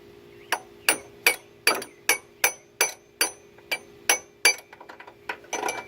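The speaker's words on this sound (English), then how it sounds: "I'm gonna start and hit it with the hammer." Eleven sharp metallic hammer strikes on the AC pulley of a 2005 Acura RSX Type-S land in a steady rhythm, close and loud, each ringing briefly before the next, with a few lighter taps at the end.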